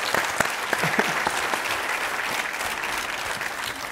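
Steady applause from a group rings out, a dense continuous clatter of hands at constant level, with a few brief voices or cheers poking through early on.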